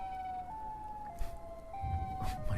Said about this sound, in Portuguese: Eu conseguia ouvir a sirene chegando perto, o som ficando mais alto